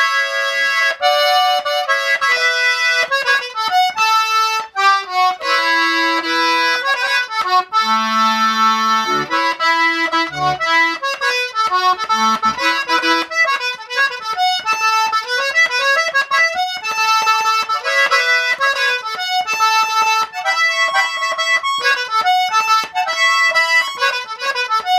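A D-key Cajun accordion plays chords on its two middle reeds with a wet tuning, giving a rich, dense and slightly beating tone. The chording is loud and busy, with quick bellows-driven changes throughout and no voices.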